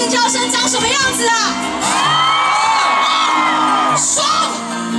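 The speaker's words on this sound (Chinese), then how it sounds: "现场大概有1万人呢，1万人的尖叫声长什么样子啊？" A huge outdoor concert crowd of about ten thousand people at Pingtung's Millennium Park screams, whoops and cheers continuously, loud and dense, with high shrieks rising and falling throughout.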